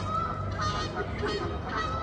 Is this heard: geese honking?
yes